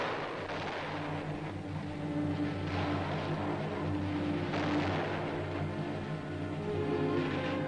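Battlefield gunfire on Iwo Jima: a continuous rumbling din of distant artillery and small-arms fire with bullets passing overhead, steady and dense throughout, with a low engine-like drone underneath.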